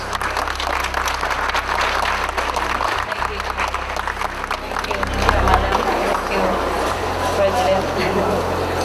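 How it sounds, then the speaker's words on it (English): A large audience claps steadily throughout, a dense sustained wash of applause with a faint murmur of voices underneath. "Please give her a big round of applause."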